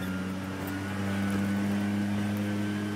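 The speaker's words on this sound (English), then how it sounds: "there's my blower over there, blowing away" A leaf blower runs some distance away, making a continuous, fairly faint motor drone with a steady hum. There is no speech.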